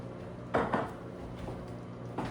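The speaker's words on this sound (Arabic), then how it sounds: "حطيت المقلاية على الغاز" A metal frying pan is set down on a gas stove, making a couple of clanking knocks and then softer scrapes and clinks against a quiet kitchen background.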